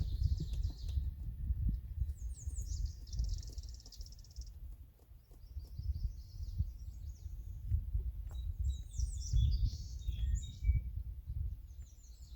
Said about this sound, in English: Might be able to hear the birds in the background.